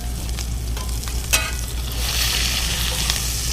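Butter sizzles steadily in a hot pan beside a cooking steak, a continuous broadband frying hiss that swells louder halfway through, with no one speaking.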